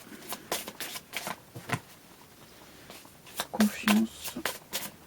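Tarot cards being shuffled and handled nearby, a run of quick papery riffles and slaps in uneven bursts, with someone speaking softly in between.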